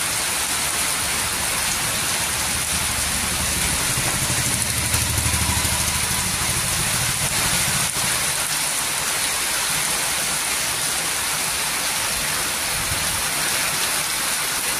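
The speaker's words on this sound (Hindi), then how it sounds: "बढ़िया बारिश हो रही है।" Steady, heavy rain pours down throughout on Janmashtami day in Raje Sultanpur, Ambedkar Nagar, a dense even hiss heard outdoors with no speech.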